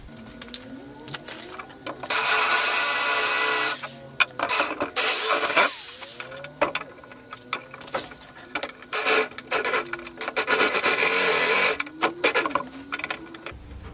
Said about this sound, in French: je vais percer ma caisse